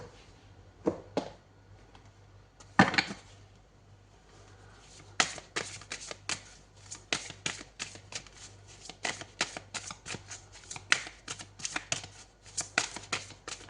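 Oracle cards being shuffled by hand in a quiet room: a few separate riffles early on, then a long run of quick, close, crisp card flicks and slaps in an uneven rhythm.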